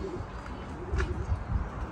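Soft pigeon cooing, a few low repeated coos over a faint outdoor background, moderately close and calm.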